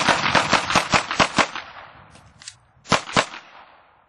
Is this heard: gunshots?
yes